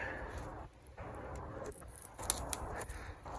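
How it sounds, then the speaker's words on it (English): Snips of scissors cutting through wiring harness tape on a MK3 Ford's headlight wiring, a few sharp clicks and crunches over close, low handling noise, without talk. "I'm going to chop all this tape"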